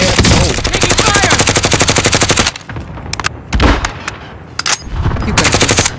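Call of Duty: Modern Warfare gunfire, a long rapid automatic burst for over two seconds, then scattered single shots and shorter bursts, loud and close.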